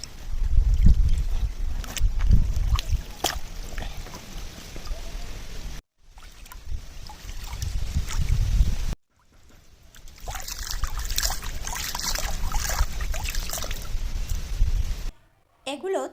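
Banana leaves and banana blossom being washed in a pond, with splashing and trickling water broken by pauses, plus breezy wind on the microphone and a voice talking at times.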